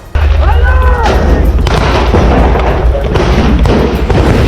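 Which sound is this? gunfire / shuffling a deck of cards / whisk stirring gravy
gunfire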